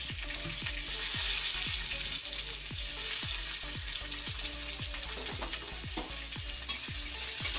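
Large pieces of onion fry in hot oil in a pan with cumin and cinnamon for a mutton curry. A steady close sizzle is broken by regular scraping stir strokes about twice a second, with no talking.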